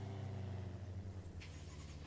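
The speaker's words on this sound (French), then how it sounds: "J'ai vu une bagnole" A car in the video game ArmA drives past as a low, steady engine rumble, faint and continuous, with a brief brighter rustle near the end.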